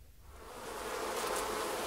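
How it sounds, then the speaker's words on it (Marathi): Wasps buzz from a nest in a cave, a continuous, close hum that swells gradually from faint to steady over a couple of seconds, with no voices. "गुहेत होतं गांधील माशीचं पोळ"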